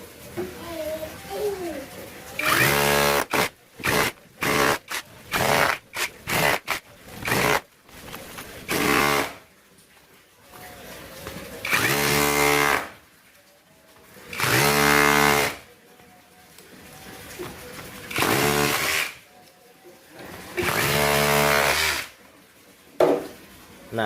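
An INGCO rotary hammer chisels into a hard pond-filter medium in repeated loud bursts of several seconds each, separated by short pauses and a few quick taps, with brief talk in the gaps.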